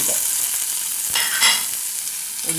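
Onions sautéing in a frying pan for an egg kofta curry, with a steady close sizzle and occasional scrapes of a stirring spoon across the pan, no talking.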